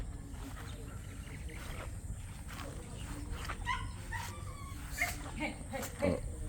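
Guard dogs in a yard in the Philippines bark and whimper excitedly, several yips and barks at a short distance growing more agitated toward the end, while a person talks nearby.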